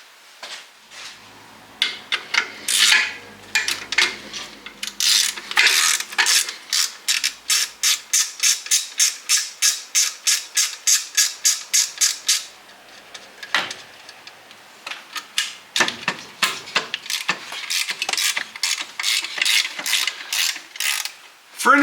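Ratchet wrench clicking while the alternator comes off an EJ207 engine, sounding as loud, close bursts of fast, even pawl clicks with short gaps between strokes.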